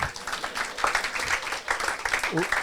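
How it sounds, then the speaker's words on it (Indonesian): A church congregation claps in applause during a sermon, brief scattered clapping under a speaking voice with some crowd murmur. "Kasih tepuk tangan dong."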